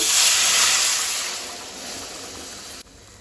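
A cup of water poured into hot roasted semolina bursts into a loud, close hiss of steam that slowly fades over a few seconds before cutting off.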